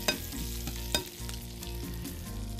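Bacon sizzles and crackles steadily in a hot pan, with a couple of sharp pops and stirring scrapes, heard close with no talk.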